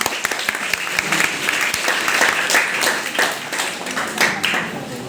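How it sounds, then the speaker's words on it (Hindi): Applause from an audience at a college event marking World Mental Health Day in Munger, steady dense clapping with sharp individual claps standing out, sustained and fairly close for several seconds with no talk. "जोरदार तालियों से स्वागत करें।"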